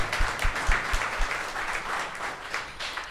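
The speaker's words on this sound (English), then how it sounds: "Let's clap for Jamie." An audience at a live community event gives a moderate round of clapping for a speaker named Jamie, a fairly soft, steady patter with a few heavier low thumps early on.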